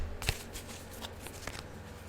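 Tarot cards are shuffled in a few quick, soft riffling bursts, close and fairly quiet, with no talking.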